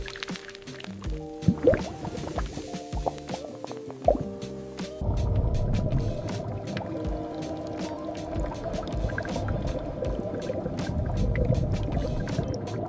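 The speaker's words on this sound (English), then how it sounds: "air bubbles coming from the bottom gently tumble the fruit, removing dust without damaging the skin" Air bubbles tumbling strawberries in a factory washing tank, a steady churning, bubbling wash of water with dripping and sloshing, continuous and close.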